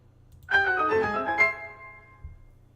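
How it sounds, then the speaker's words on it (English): A bright, shimmering synthesized chime from Xenoblade Chronicles 2, marking a new power, swells quickly and rings out for about a second before fading, followed by a soft low thump. "It's the sound of a new power that we have."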